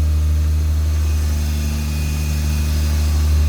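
A 1977 Toyota Celica RA28 engine idling while warming up after a new radiator install, a loud, steady, close-up low rumble with an even hum and no revving.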